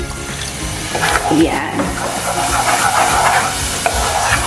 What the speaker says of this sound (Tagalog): Lagay lang tayo ng tubig.